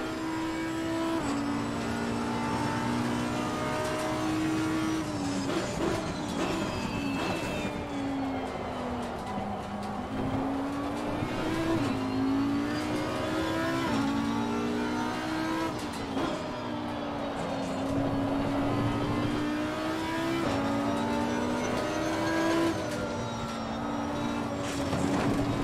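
Race car engine lapping Laguna Seca in Assetto Corsa Competizione, a loud continuous drone that rises and falls through gear changes and corners for the whole stretch, with no talking over it.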